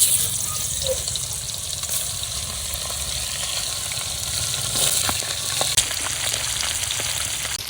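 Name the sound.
tilapia fish frying in hot oil in a wok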